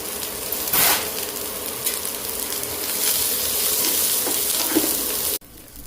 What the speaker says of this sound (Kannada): ನೋಡಿ, ನೀರುಳ್ಳಿ ಬೆಳ್ಳುಳ್ಳಿ ಕೂಡ ಫ್ರೈ ಆಯಿತು.